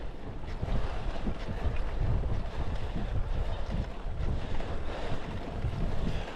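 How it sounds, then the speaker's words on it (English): Wind rushing past during a ride on a road, a constant heavy low roar buffeting the microphone at steady loudness from start to finish, with no talking. "This wind just acts like a bit of a parachute."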